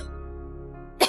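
A young woman gives a single sharp cough at the end of a brief near-silent pause, the burst short and close.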